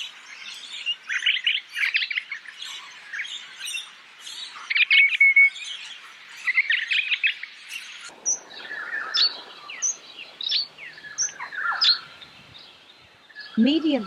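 Eastern rosella parrots give bright, rapid chirps and whistled calls, a dense busy chatter at first, then sparser, piercing notes, heard outdoors near and clear with no voices.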